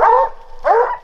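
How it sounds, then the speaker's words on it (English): Coon hounds on a hunt in the southern New Mexico desert bay twice, each a loud, drawn-out bark near the listener, separated by a short pause. "dogs are barking"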